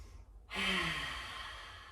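Big audible breath during a yoga session, a single long breathy exhale that starts abruptly after a brief silence and slowly fades, close and soft.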